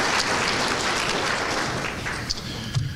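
An audience at an athletic hall of fame event applauds, a steady wash of clapping from many hands that fades slightly toward the end.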